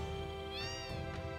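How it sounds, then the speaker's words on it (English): Several cats meow in the Final Fantasy VII video game, with sustained overlapping cries rising and falling over a humming background and no talk. "Oh my god, there are a bunch of cats."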